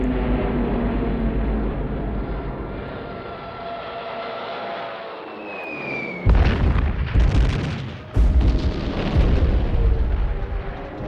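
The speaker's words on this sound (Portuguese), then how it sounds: "Em setembro, Hitler ordena o bombardeio de Varsóvia" Bombing of Warsaw in September 1939: a low rumbling drone and a whistling descent give way to two heavy, deep explosions with booming, crackling aftermath, loud and close.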